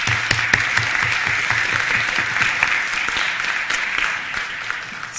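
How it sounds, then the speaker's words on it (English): Attendees at a school district board meeting give sustained applause, a close, even patter of many hands with a few sharper claps standing out, holding steady for several seconds without talk. "So everybody, please give Aiden a round of applause"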